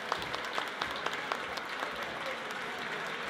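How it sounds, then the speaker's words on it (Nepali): Steady applause from an audience at an annual community gathering in a school hall in Aldershot, dense clapping at an even level with no pauses. "एकचोटि जोरदारले ताली दिनुहोस्"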